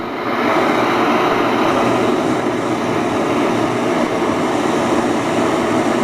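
BRS 3000T gas camping stove burning with a steady, loud roaring jet flame, a dense continuous hiss that holds even throughout, close up with no talk.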